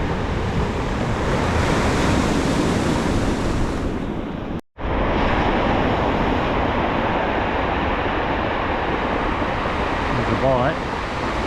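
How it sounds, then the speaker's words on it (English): Steady, roaring ocean surf with a continuous low rumble of boulders grinding and tumbling over each other as waves roll in and back, loud and close, broken by one brief dropout midway. "As the waves come up and they roll back, you can hear the boulders rolling over each other."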